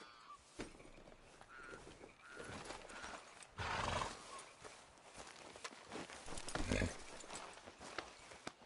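A horse in Red Dead Redemption 2 whinnies and its hooves clop through a busy outdoor game soundscape; the loudest neigh comes at mid-clip over steady ambient noise.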